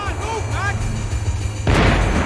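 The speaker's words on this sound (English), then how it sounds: "The bullets came from long range." Long-range gunfire in the shooter game Max Payne 3, heard as distant booming shots that land with a sudden loud burst near the end, beneath a low rumbling game soundscape with a brief whooshing effect early on.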